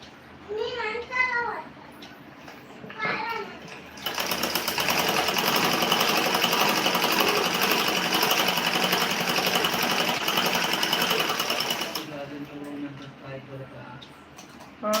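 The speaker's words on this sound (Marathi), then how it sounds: "ब्लाऊज शिवत आहे मी लेडीज टेलर आहे ब्लाऊज शिवत आहे" A ladies' tailor's sewing machine stitches a blouse in a loud, steady run of about eight seconds, with someone speaking briefly before it starts and again after it stops.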